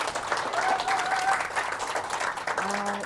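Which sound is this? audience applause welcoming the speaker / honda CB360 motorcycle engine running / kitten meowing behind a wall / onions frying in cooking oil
audience applause welcoming the speaker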